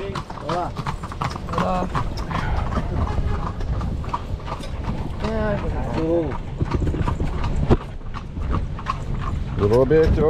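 Steady clip-clop of horse hooves trotting along at an even rhythm in Cuba, close by, with people talking over it.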